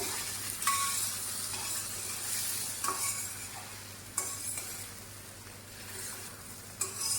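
Potatoes fry in a pan with a steady close sizzle, broken every second or two by the scrape and clink of a utensil stirring them.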